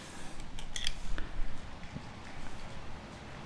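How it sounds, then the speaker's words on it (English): Scissors or shears snip through a succulent stem, cutting it into several shorter sections during stem propagation; a few close, crisp clicks and snips come in a quick cluster early on, then fade into quieter handling. "you can actually cut it into multiple sections to make it shorter"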